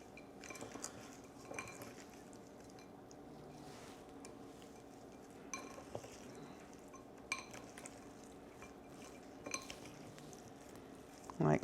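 Seasoned shrimp stirred in a bowl, soft scraping and intermittent clinks of utensil against the dish, fairly close and quiet, with someone speaking at times.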